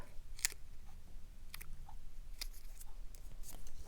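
Scissors snip craft embellishments to size in a few sharp, separate cuts spaced across a quiet room, close and crisp.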